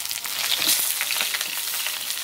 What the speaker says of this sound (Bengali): প্রথমে বেগুনগুলো ভালো করে ভেজে নেব